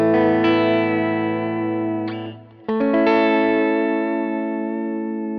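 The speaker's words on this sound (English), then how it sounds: "So at texture at 0, you can hear the original signal a little bit more." Electric guitar played through a Line 6 HX Stomp with the Retro Reel tape effect, texture set to zero: sustained distorted chords with echoing repeats, a brief drop in the middle, then a fresh strum ringing out, with no talking.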